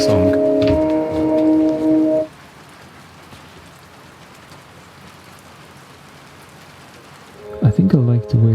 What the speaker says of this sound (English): the rain hitting the window